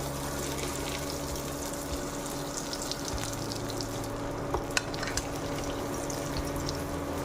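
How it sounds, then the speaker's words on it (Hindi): Veg burger patties go into hot oil in a pan, giving a continuous low sizzle and bubbling under a steady background hum, with a few brief sharper crackles near the middle. "ये टिक्की को अब हम डाल देंगे एक एक करके।"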